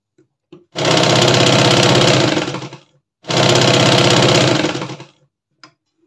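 A sewing machine stitches a garment along a marked margin in two loud, steady bursts of rapid needle chatter, each about two seconds long, separated by a brief pause, with small clicks before and after.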